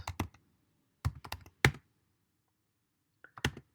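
Short bursts of computer keyboard keystrokes while entering code, sharp close clicks in small clusters separated by silent gaps.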